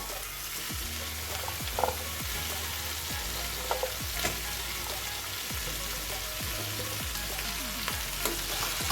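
Mutton fat frying with potatoes in a pan, a steady sizzle with crackles and a repeating low scraping rhythm from stirring, plus a few light utensil knocks, close and without speech.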